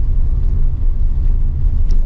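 Automatic car held in D and climbing a steep incline slowly: a loud, steady low engine rumble heard from inside the car, with no other sounds standing out.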